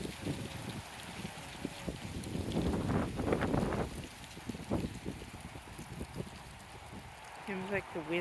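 Strong November wind gusting outdoors, a broad rushing roar that swells in the middle and buffets the microphone, with a brief voice-like sound near the end.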